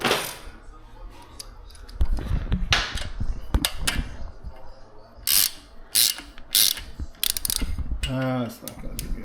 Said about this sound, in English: Put your ratchet